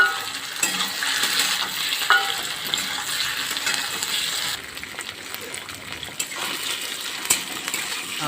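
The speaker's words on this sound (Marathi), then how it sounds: "आता यामध्ये बटाटा घालतोय आपण" Boiled potato added to sabudana khichdi in a pan, stirred and fried with a continuous loud sizzle, scraping spatula strokes and a few metallic clinks against the pan.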